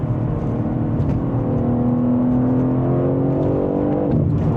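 A BMW M3 CS engine revs steadily upward from inside the cabin, a sustained rising whine with clear harmonic tones climbing for several seconds before dropping off as the revs fall.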